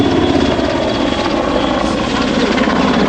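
An EH101 Merlin helicopter flying a display manoeuvre at an air show, giving a loud, continuous, close rotor roar and turbine whine with a steady beating texture throughout.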